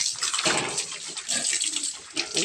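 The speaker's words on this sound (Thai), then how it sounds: "ฉีดน้ำใส่ตัวล้างตัวเพื่อว่า ไอ้ตัวเพิ่นเปียก" Water hoses out in a steady hissing spray as fattening pigs in a pen are washed down, the rushing sound rising and falling slightly without a break.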